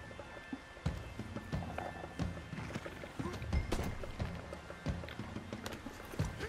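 Horse hooves clip-clop in Red Dead Redemption 2, a fairly quiet, uneven trotting rhythm of hoof thuds with occasional louder knocks and faint background ambience.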